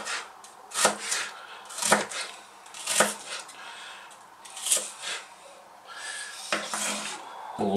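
A knife chops onion together with meat on a board in a home kitchen, giving about nine sharp knocks at an irregular pace that are close and fairly loud over a soft background, with no talk.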